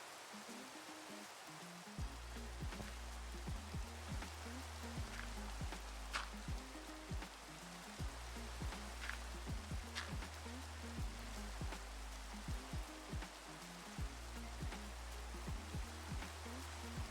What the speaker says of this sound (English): It's still bloody raining.